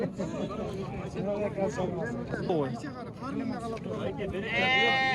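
Sheep and lambs bleating at the Kara-Balta livestock market, with several bleats rising over a busy background of people talking and bargaining nearby, and one loud, close bleat at the end.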